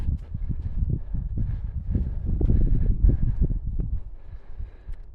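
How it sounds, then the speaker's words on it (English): Steady wind buffets and rumbles across open Sahara desert in Morocco at dawn, gusting stronger in the middle, with faint rustling and no voices. "It's windy."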